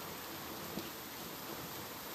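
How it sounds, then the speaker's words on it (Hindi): Heavy monsoon rain pours down steadily, a dense, even hiss of downpour filling the space without pause and with no voices. "बारिश बहुत तेज हो रही है, ये देखो।"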